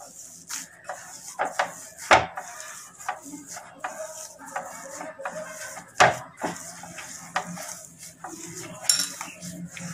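Malai kofta mixture is worked together with flour in a bowl. Irregular clinks, taps and scrapes of a utensil against the dish come and go, with a few sharper knocks standing out.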